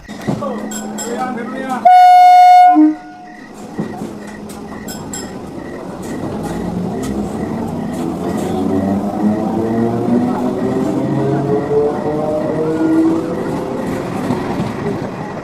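A midnight train pulling into a station sounds one short, loud horn blast, followed by a steady rolling rumble and clatter of the wagons that continues to the end.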